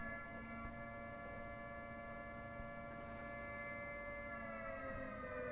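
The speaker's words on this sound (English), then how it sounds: "The siren that's playing is playing because we're in a war." A steady wartime siren drones on continuously at a distance, its sustained tones layered over a low hum with no break across the stretch.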